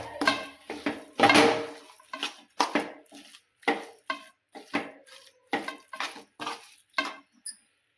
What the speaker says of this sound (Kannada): ಈಗ ಇದನ್ನು ಚೆನ್ನಾಗಿ ಮಿಕ್ಸ್ ಮಾಡ್ತೇವೆ ನೋಡಿ